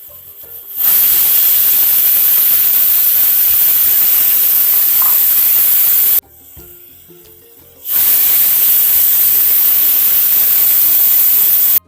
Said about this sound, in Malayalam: നമ്മുടെ കുക്കർ രണ്ട് വിസിലടിച്ചിട്ടുണ്ട്